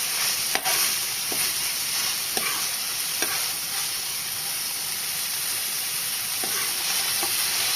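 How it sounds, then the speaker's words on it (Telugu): Chopped tomatoes and green chillies sauté in a hot pan, giving a constant close sizzle and hiss with a few brief clicks of a spoon against the pan. "ఇప్పుడు టమాటాను పచ్చిమిర్చి మగ్గించుకోవాలి."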